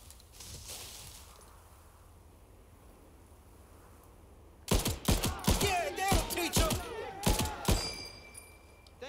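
Quiet ambience gives way to a loud, close machine gun nest opening fire in the video game Gates of Hell, with sharp rapid bursts and echoing cracks over the last several seconds.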